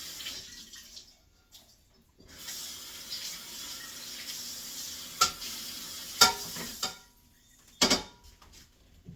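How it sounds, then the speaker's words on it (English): Food being rinsed under a running kitchen tap while making steak-umm pepper sandwiches: a steady rush of water with a few sharp clatters and splashes, and no voices. "I will rinse this off because it's getting kind of juicy"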